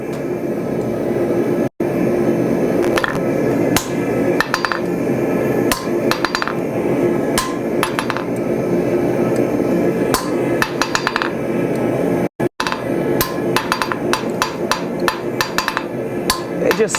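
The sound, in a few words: hammer striking an anvil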